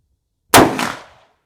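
A single loud, close gunshot from a Big Horn Armory Spike Driver takedown rifle in .500 Magnum with a tank muzzle brake, fired at an outdoor range, with a sharp crack and a short decaying boom.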